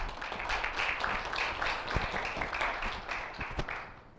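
A lecture-hall audience at a college speaker series applauds steadily, a dense wash of many hands at moderate distance with a few sharper nearer claps, continuing throughout.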